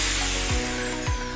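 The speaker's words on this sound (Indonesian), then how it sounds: "Dengan sangat cepat saya bisa memasukkan skrup ini tanpa harus mengira-ngira sampai mana harus saya bor ini" A Makita FS6300 electric screwdriver driving screws, a loud close whirring motor with two quick descending drops in pitch as each screw seats, and no talk.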